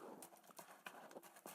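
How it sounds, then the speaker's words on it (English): Hooves of a lead farm horse clop steadily in an irregular walking rhythm, close and fairly faint, with a soft outdoor background and no talk. "She's the lead horse in the farm."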